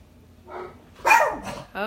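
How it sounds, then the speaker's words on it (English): Several dogs bark and yip indoors in short overlapping bursts, fairly close, with a whine mixed in. "Oh, the dogs."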